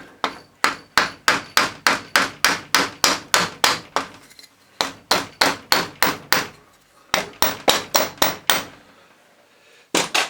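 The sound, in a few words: rubber hammer striking metal dynamo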